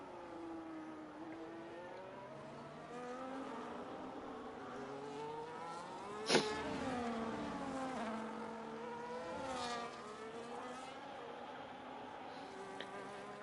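Ferrari Formula 1 car engines from a racing video game at Abu Dhabi, a steady high-revving whine that rises and falls through gear changes, with several cars passing and a sharp burst near the middle.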